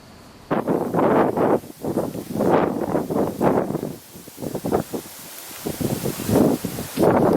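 Blustery wind outdoors in Finland buffets the microphone in loud, irregular gusts that surge and fade in rough bursts, separated by brief quieter lulls.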